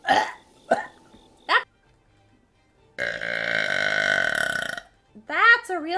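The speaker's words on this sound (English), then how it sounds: "That's a real burp." Several loud burps from a female streamer: short bursts early on, then a long drawn-out rumbling belch of about two seconds, followed by her talking.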